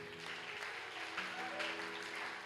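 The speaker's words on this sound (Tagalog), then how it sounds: "Pwede ba nating palakpakan muli ang Lord?" Church congregation applauding after a sermon, a soft, steady patter of clapping that sounds fairly distant and fills the whole moment.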